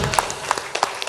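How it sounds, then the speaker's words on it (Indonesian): A classroom audience at an Islamic boarding school creative competition gives group 1 a brief round of applause, a steady wash of clapping with a few louder claps standing out. "Tepuk tangan untuk kelompok 1."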